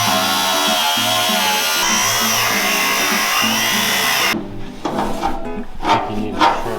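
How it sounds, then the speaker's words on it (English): Power drill boring into the metal body of an FJ45 rock crawler during fabrication, a loud steady whine for about four seconds that stops abruptly, followed by faint clanks and shop noise. "Okay, next, we got to drill this."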